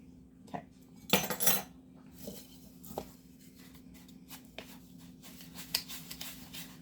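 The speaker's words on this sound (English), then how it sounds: "So I'm going to mix this up." A spoon stirs brown sugar and molasses in a bowl for cookie dough, giving quiet, irregular scrapes and clinks against the bowl, faint and close with no talking.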